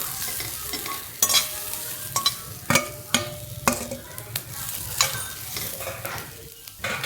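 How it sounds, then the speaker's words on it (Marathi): Mixed vegetables being stir-fried for Hakka noodles, a steady close sizzle in the pan broken by sharp scraping and clacking strokes of a spatula every second or so, with no talk. "सगळ्या भाज्या आहेत ना परत टाकून घेतल्या आणि त्या पण त्याच्याबरोबर चांगल्या परतून घेतल्या"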